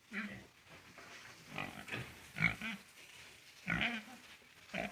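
A two-month-old piglet on a pig farm in Assam gives short, close grunts and snorts in uneven bursts, fairly quiet, with no one talking.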